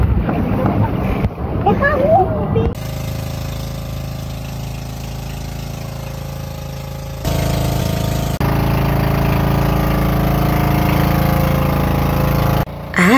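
A motorboat engine drones steadily with wind buffeting the microphone, broken by brief cuts, with a few voices heard early on, on the way to the Puerto Princesa Underground River.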